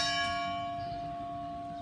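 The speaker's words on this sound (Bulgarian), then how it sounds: "Камбаната бие." A church bell in Berkovitsa, Bulgaria, one ringing stroke that hangs and slowly fades, heard from a distance in the open air.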